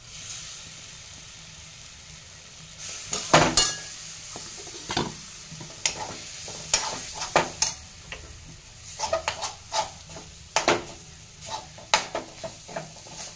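Ground soaked dal being added to onion and gram flour in a pan, with soft frying sizzle under repeated clinks and scrapes of a spoon against the pot.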